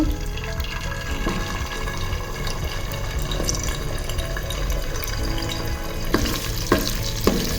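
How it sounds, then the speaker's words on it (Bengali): Beaten, lightly salted egg fries in a pan of oil with a dense, close sizzle throughout, joined near the end by a few sharp clicks and knocks. "এখন আমি ডিমটা ছেড়ে দিচ্ছি।"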